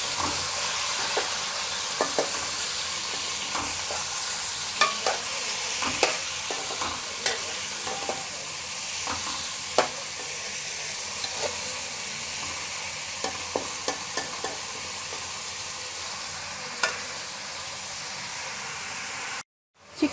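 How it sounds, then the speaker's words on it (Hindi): Chicken pieces sizzle and fry in a hot pan with garlic, a steady broad hiss broken by frequent sharp spatters and pops. It runs close and continuous for about twenty seconds, then cuts off abruptly at the end. "चिकन को हम तब तक फ्राई करेंगे जब तक इसका कलर चेंज ना हो जाए।"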